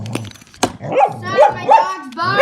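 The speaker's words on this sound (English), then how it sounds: "my dog's barking!" A dog barks loudly and close in a home where a Beyblade Burst battle is going on, with several sharp yipping barks in quick succession.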